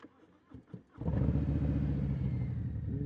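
A few quiet clicks, then a Harley-Davidson Low Rider S motorcycle engine fires up and settles into a loud, deep, throaty idle with a rumbling aftermarket Reinhardt exhaust.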